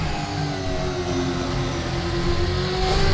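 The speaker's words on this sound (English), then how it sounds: "So sounds cool, especially bouncing off the rev limiter." A modded car in the Assetto Corsa racing game revs hard against its rev limiter, a loud, steady engine drone with climbing harmonic tones and no talk.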